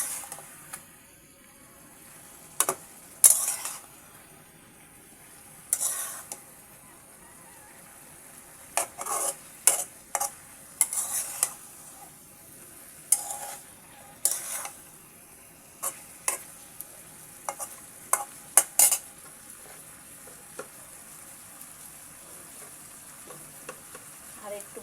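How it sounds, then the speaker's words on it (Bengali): Rohu fish curry with onion paste and chili powder being stirred and fried in a pan, with steady sizzling and repeated sharp scrapes and clinks of a utensil against the pot, no talk. "দেব পেঁয়াজ বাটা এবং মরিচের গুঁড়ো দিয়ে আমি কষিয়ে নেব সুন্দর মতো"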